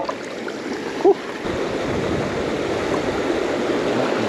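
A river current runs in a steady, moderately loud rush of flowing water, with a brief small splash or knock near the start.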